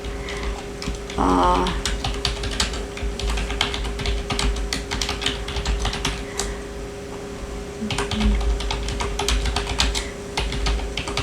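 Steady clatter of typing on a computer keyboard, close and continuous for about eleven seconds, with a low constant hum underneath and no talk.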